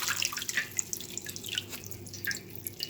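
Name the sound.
rinsing items under running tap water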